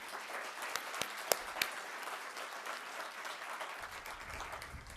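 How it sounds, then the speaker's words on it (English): Audience at a county address applauding the county board president, sustained crowd clapping heard at a distance in a large room, with a few sharper nearby claps standing out early on. "I think that deserves a round of applause."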